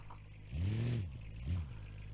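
A car engine in the BeamNG.drive video game, running a stock exhaust, revs up twice in quick bursts, the first longer and louder, the second a short blip, then settles to a low idle.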